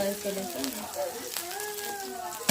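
Rava dosa batter with tomato and egg sizzling and frying steadily on a hot pan, a soft continuous crackle close by, with faint voices in the background.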